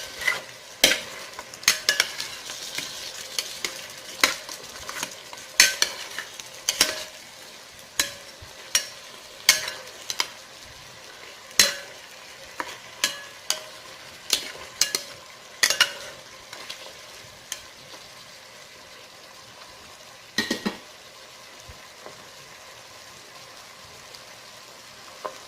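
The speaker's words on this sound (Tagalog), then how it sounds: "Gusto ko yung napa-fried yung chicken ko eh" Chicken frying in a pan for Filipino chicken afritada, a soft steady sizzle broken by frequent scraping clinks of a utensil stirring against the pan, close-up and irregular, with no talking.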